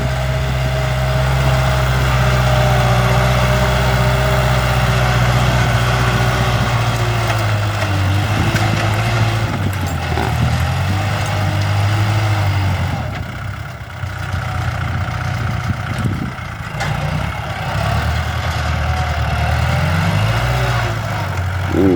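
A Kubota L5018 tractor plowing a rice field drones loudly and continuously, a low rumbling motor that rises and dips slightly in pitch as it works.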